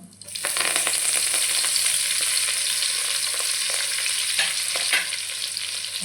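Cumin and fenugreek leaves fry in hot oil in the pan for a chicken fry, giving a loud, steady close-up sizzle with occasional stirring scrapes.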